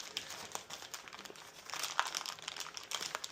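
Packaging around a Toguro figure is torn open during unboxing, producing close, irregular crinkling and crumpling bursts of plastic and paper at a moderate level with no talking.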